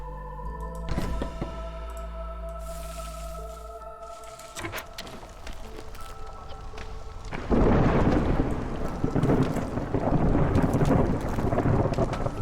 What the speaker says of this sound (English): The storm.